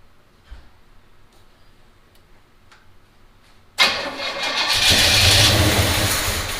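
A 1971 Pontiac GTO muscle car, unstarted for over five years and fitted with a new fuel pump, sits quiet with faint clicks before its engine abruptly catches, roaring loudly and close, then swelling into a steady revving idle.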